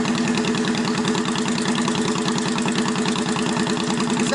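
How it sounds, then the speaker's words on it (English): A carbureted motorcycle engine idling steadily after being started, a loud, close, continuous rhythmic chug that holds an even pace with no talking. "your bike should be able to stay running without having to ignite it or to push the ignition switch again"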